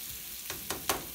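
Vegetables frying in a hot pan give a steady, close sizzle, and a few quick scraping strokes of stirring stand out over it.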